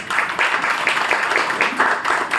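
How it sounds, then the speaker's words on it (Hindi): Steady applause from an audience at a Brahma Kumaris spiritual gathering, a dense continuous patter of many hands clapping at moderate loudness for a couple of seconds, with no talk over it. "तो ताली तो बजाओ मधुबन वालों के लिए।"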